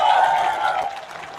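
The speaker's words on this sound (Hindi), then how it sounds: "एक बार फिर से तालियां" Crowd applause at an outdoor political rally in Jaipur rises loud at once, a broad wash of many hands clapping that thins and fades slightly over a second and a half.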